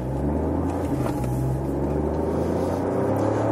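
A 2016 smart Brabus fortwo accelerating on a race track, a steady, close engine drone and road rumble holding at an even level throughout.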